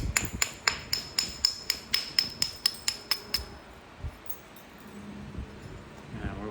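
Heated Alabama Coastal Plains chert is struck in a quick, rhythmic series of sharp, ringing taps while a point is bevelled by flint knapping. Softer, scattered knocks follow, all close and clear.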